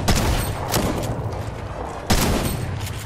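Repeated gunfire bursts from a shooter video game, loud and continuous with two sharp onsets, heard alone with no talking.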